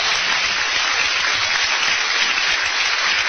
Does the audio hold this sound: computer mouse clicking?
no